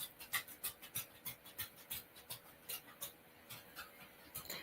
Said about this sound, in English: You hear that? This click, clack, click, clack. She just keeps walking back and forth.